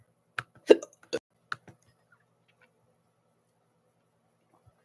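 A run of sharp hiccups from a person with a bad cough during a tornado warning, several quick close jolts in the first two seconds, then quiet.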